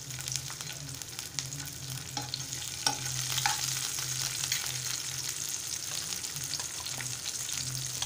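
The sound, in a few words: garlic and green chillies frying in hot oil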